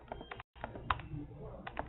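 Keystrokes on a computer keyboard during an online webinar demonstration, a quiet, irregular run of light taps with a brief gap, close and soft with faint room noise.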